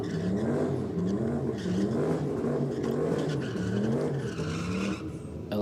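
Drag race cars at full throttle, an LS turbo car against a naturally aspirated 383 in street-car racing, their engines roaring loud and steady with a wavering pitch the whole way through, and no talk.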